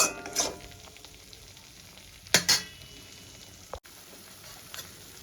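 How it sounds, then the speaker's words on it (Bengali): Spice masala frying in oil for a katla fish curry, a faint low sizzle broken by a few sharp bursts of spatter and stirring scrapes. "মশলাটা আমি খুব সুন্দর করে কষিয়ে নেব।"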